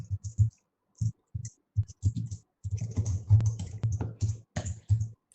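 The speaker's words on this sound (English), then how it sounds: "since I'm still sharing my screen, I can type it here." Typing on a computer keyboard during an online OpenCV webinar, heard as fast, irregular bursts of keystrokes that run close and fairly loud with no talking over them.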